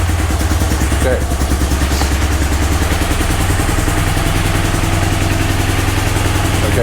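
An engine idles on a BMW GS motorcycle rebuilt after an auction purchase, with a steady low throb and mechanical clatter heard up close, while a person talks over it.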